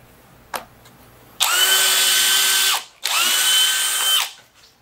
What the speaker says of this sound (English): You're drilling holes without a drill bit.